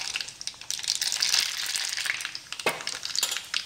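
Mustard seeds dropped into hot oil for a dal tadka crackle and pop in quick, irregular bursts over a steady sizzle, close up and fairly quiet.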